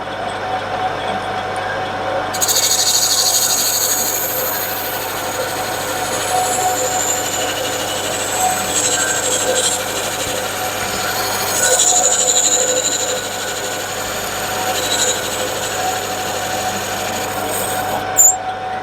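A lathe takes a light cut on a rear cylinder cover, a steady machine whine with a high metallic singing tone that swells midway and fades near the end, no voices.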